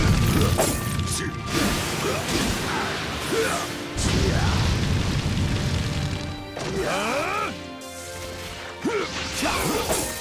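Fire-style jutsu attack effects from the fighting game Naruto Shippuden: Ultimate Ninja Storm 4, a loud busy run of crashing impacts, whooshes and rising swept tones repeating over about ten seconds.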